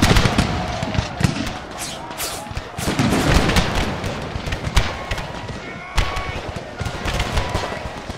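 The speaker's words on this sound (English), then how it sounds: "can I get these guys to fire their percussion shots into this regular unit?" Percussion musket volleys from an American Civil War strategy game crackle in dense, overlapping bursts of gunfire, loud and nearly continuous, with sharper single reports standing out throughout.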